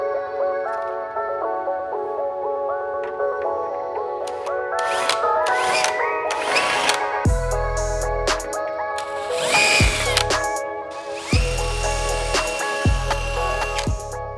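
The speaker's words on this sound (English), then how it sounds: "I'm just gonna send it and go ahead and fully drill these holes with the lip attached" Power drill boring holes through an APR Performance aero front lip on a Toyota GR86, with repeated whining bursts that rise and stop, interspersed with brief pauses and tool handling noises.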